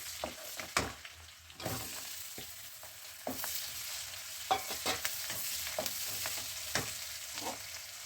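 Green chilies and coarsely cut onions hit hot oil in a pan over a high gas flame, giving a steady sizzle with scattered stirring scrapes and clatters and no talk.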